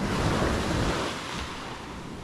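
Sea waves breaking on a beach at Playa del Carmen, a steady loud wash of surf with wind rushing across the microphone, no voices.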